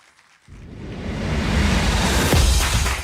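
An audience at the Makers Fest 2024 event bursts into applause for the Deputy Director General for the TVET branch; the clapping swells in after a short hush and holds as a dense, steady roar.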